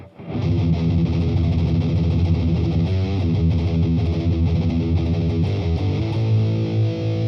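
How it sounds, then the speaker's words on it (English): Heavily distorted electric guitar through a Boss Katana MKII amp on a distortion preset for heavy riffs, playing sustained crunchy chords loudly and continuously with no voices. "This is distortion sound that is ideal for performance of heavy riffs"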